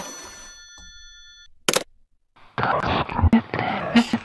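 A telephone rings in the Japanese horror video game ON DEKI, a steady electronic bell tone repeating for about a second and a half, followed by a sharp click and then close, hushed, distorted voices.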